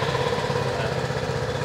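Scomadi Tourismo Technica 200 scooter engine running just after starting, a steady close idle burble, moderately loud and unbroken for a brief moment.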